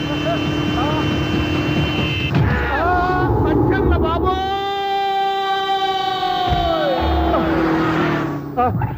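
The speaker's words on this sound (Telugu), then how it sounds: "సైరన్నే కొట్టాడు" A loud siren-like tone rises, holds steady for a few seconds, then winds down, with voices and background noise throughout.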